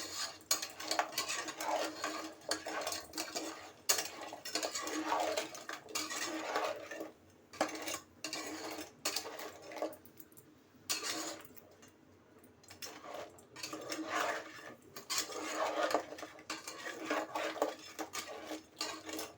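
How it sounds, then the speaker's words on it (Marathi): Spices and salt sautéed in a pan for a Malvani-style crab curry, with a spoon scraping and clinking against the metal in quiet, irregular strokes and soft sizzling between them. "चवीप्रमाणे मीठ पण घालून घेते आणि मस्त असं परतून घेते"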